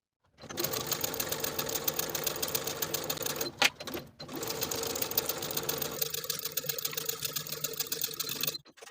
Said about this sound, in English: Then we're going to sew this outer curve with a 5/8 inch seam allowance from center back all the way around to the opposite center back.